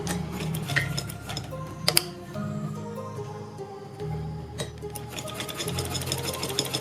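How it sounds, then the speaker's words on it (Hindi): Close, loud sewing machine stitching a kurti neckline, its rapid ticking needle running in bursts with short pauses and clicks between runs. "बिल्कुल उसी निशान के ऊपर हमें इसको सीलते जाना है"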